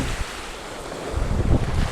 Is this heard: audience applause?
no